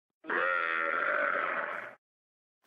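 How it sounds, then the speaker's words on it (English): A camel gives a single loud, sustained groaning bellow of nearly two seconds, rich and steady, heard close and alone with no other sounds. "C is for camel."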